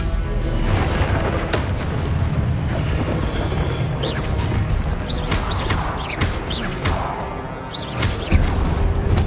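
Expelliarmus and other spells are cast during combat in Hogwarts Legacy, with booming impacts, whooshing magical bursts and clanking effects layered densely and loudly throughout.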